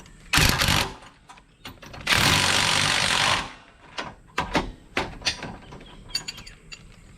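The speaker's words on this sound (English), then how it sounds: "I'm not going to tighten these all the way up, I'll just take up the slack." Bolts being tightened on a Cruisemaster D035 coupling on a Jayco Basestation caravan, heard as bursts of rapid ratcheting wrench clicks and metallic taps, close and loud, with short pauses between turns.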